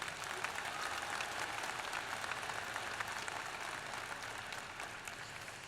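Steady applause fills a hall at a spring 2014 university commencement to honour staff being recognised, a soft, even patter of many hands heard from some distance, continuous throughout with no talk over it.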